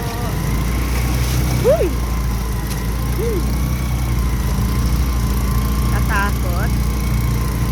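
A tricycle engine chugs along while wading through flood water, giving a steady, close, low-pitched drone that runs throughout as people talk and exclaim over it.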